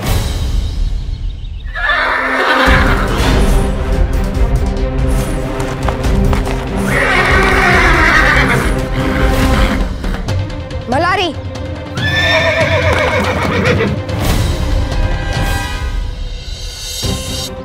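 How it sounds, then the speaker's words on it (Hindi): A horse neighs repeatedly with clattering hooves throughout, loud and close, in a Peshwa-era historical drama, mixed under continuous background music and sound effects. "प्रभाकर राव, हमने कहा घोड़े पर जाकर बैठो।"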